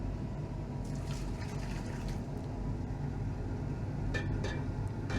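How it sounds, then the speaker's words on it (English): Boiling tap water poured over gold to rinse it, a steady low splashing and filling wash running throughout, with a few brief clinks near the end. "This is just boiling tap water back here."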